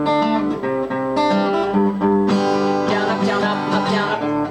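Acoustic guitar strummed in a steady down-up pattern for a song lesson, chords ringing full and close with continuous rhythmic strokes and no talking.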